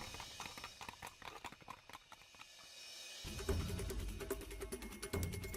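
Horse hooves clip-clopping in a steady rhythmic patter over a background hum that grows louder partway through, with no clear speech.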